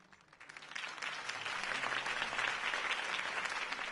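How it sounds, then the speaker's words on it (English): Video game crowd applause swells in after a quiet start and holds steady as dense, continuous clapping. "could have heard that applause"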